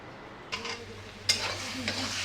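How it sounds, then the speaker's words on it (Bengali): Shak ghonto, a Bengali leafy greens dish, cooks in a pan with a soft sizzle broken by two or three brief stirring scrapes and clatters close by. "এখন রান্না হচ্ছে শাক ঘন্ট"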